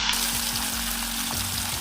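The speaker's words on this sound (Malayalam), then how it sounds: "ചീനച്ചട്ടിയിൽ ഇതിട്ട് വറുത്ത്, ഇത് വെളിച്ചെണ്ണയാണ് ഉപയോഗിക്കുന്നത്." Nang fish fries in coconut oil in a wok, a steady close sizzle and crackle running throughout, with a few soft scraping stirs and no voices.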